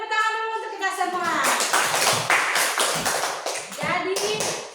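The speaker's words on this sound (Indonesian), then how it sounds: "Beri tepuk tangan dulu untuk kita semua" A class of children clapping hands together in a burst of applause lasting a few seconds, close and loud, with voices speaking and cheering before and after the clapping.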